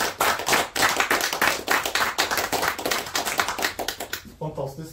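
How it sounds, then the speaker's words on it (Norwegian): Audience applause at a NUUG members' meeting on living a digital everyday life without sight: dense, steady hand clapping from a room of people fills the whole stretch, then thins out near the end. "Jeg synes han fortjener en applaus."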